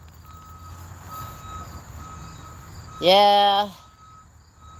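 A Snap-on Tools truck backing up gives a burst of loud, close reversing beeps lasting under a second, over a quiet backyard with faint insect chirps; a voice speaks briefly.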